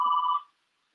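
A telephone ringing in a brief electronic trill that holds steady for under half a second and then cuts off, clear and close with nothing else around it.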